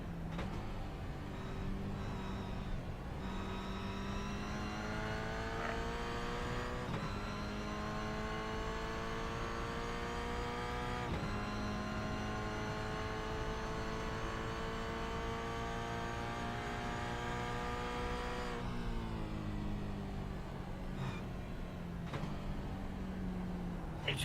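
A Toyota GR86 race car lapping the Oschersleben circuit, its engine heard from onboard as a steady loud drone, climbing in pitch through the gears with repeated shifts and braking drops, continuous throughout.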